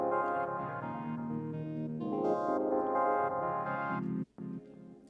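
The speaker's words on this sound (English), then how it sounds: "You can hear it kind of like stuttering out." Melody passed through a Portal plugin preset, sustained synth tones chopped into a rhythmic stutter, moderately quiet and continuous with a brief dropout near the end, no talk.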